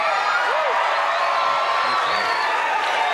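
A studio audience at a late-night television talk show cheers and whoops, a dense, loud, continuous crowd roar with scattered rising shouts and whistles.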